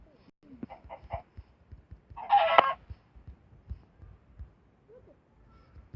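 Chicken clucking in the Minecraft video game: a short burst of game clucks and a louder squawk over soft background clicks, no voices present.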